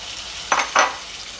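Boiled eggs are folded gently into frying masala in a pan, making two short, soft stirring swishes a moment apart, with a faint sizzle underneath and no talking.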